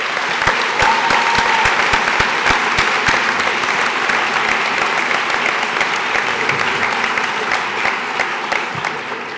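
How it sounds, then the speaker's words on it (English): A graduation ceremony crowd applauds the faculty with sustained, sharp clapping in a large hall. The clapping is steady and fills the space, then thins slightly toward the end. "May I once again ask you to join me in applauding also the faculty."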